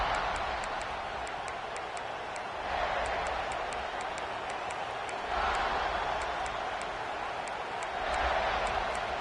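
Football stadium crowd at a South Carolina versus USC game, a broad steady roar of cheering that swells in waves, loud and distant-filling, with no clear talk over it.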